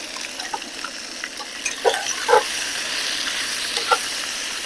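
Tallow stirred in a pot as it renders, with a soft steady sizzle and a few scraping clinks from the spoon, fairly quiet and without talk.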